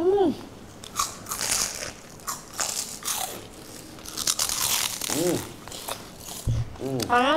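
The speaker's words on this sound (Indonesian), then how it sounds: "Cemalon sih Kenta, tapi ini kerupuk kulit." Crunchy kerupuk kulit skin crackers get bitten and chewed up close, giving repeated brittle crackles and crunches while people chat in between.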